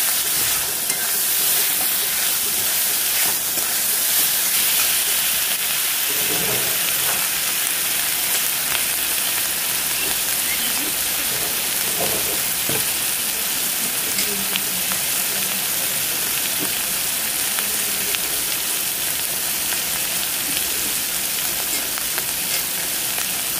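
Ground cumin frying in oil in a pan while being stirred, a steady close sizzle and hiss with occasional scraping stirs, no talking.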